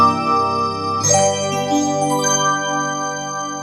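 A Yamaha P-515 digital piano plays its Bright DX electric piano voice through its own speakers. Sustained chords ring with bright, bell-like overtones, with new notes struck at about one and two seconds into the phrase.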